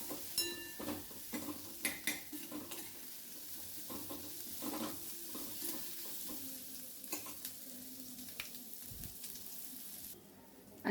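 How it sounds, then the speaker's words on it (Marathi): Onion stirred and sautéing in a pan for a spicy drumstick masala curry, with a steady soft sizzle under frequent spoon scrapes and light clinks against the pan, fairly close and moderately quiet. "आता कांदा परतून घेऊया"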